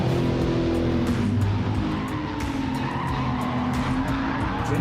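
A race car in the Gran Turismo 7 video game on the Suzuka circuit roars loudly under acceleration with a sustained tire skid and squeal, a dense continuous engine drone throughout.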